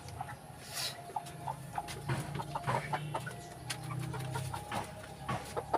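A Rhode Island Red crossed with a native hen clucks repeatedly at close range in a farmyard, short soft calls in an uneven rhythm over faint background chicken sounds.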